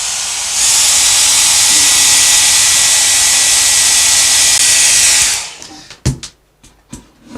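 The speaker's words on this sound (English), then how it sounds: "let's put the hairdryer on." A hair dryer blows a steady, loud, close hiss for about five seconds while drying a watercolour fruit still life, then cuts off and a few knocks and handling sounds follow.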